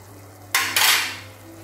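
Matar flower bhaji is stirred in a pressure cooker pot, heard as two quick, bright scraping swishes of a spoon against the metal, close up, fading into quiet, with no speech.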